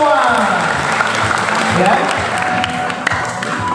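Students applaud at a high school session, a dense burst of clapping filling the room with a voice speaking briefly over it.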